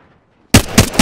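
Apex Legends firefight as another squad attacks: after a half-second of near silence, a loud close automatic burst erupts, with rapid pulsing shots continuing to the end.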